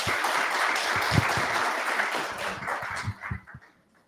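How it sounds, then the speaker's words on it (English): A conference audience applauds at the end of a business messaging panel session: dense, steady clapping fills the room, then thins into a few scattered claps and fades to near silence. "Round of applause, please."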